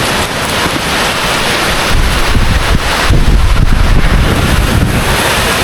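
Strong gusting wind with rain during a storm in Baguio City, a loud, constant roar that buffets the microphone and swells in intensity partway through, with no voices present.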